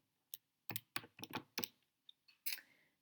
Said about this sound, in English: I'm just going to type that into my calculator.